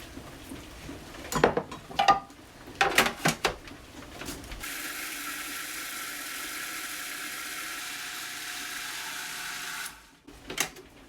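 A blender purees serrano peppers with salt for fermented hot sauce, running in one steady whirring burst of about five seconds. Clattering handling noises come before it, and a brief knock follows.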